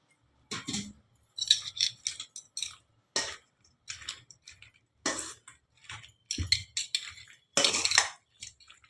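Spoon scraping and clinking against a pan while fried dry spice is stirred into kul (jujube) pickle, a series of sharp, separate metallic scrapes in an irregular rhythm, close and otherwise quiet.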